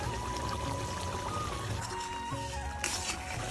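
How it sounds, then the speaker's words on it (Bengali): Ghee is poured into a potato curry in a pan, giving a faint, steady liquid trickle up close with a small clink near the end. "একটু ঘি দিয়ে দিচ্ছি।"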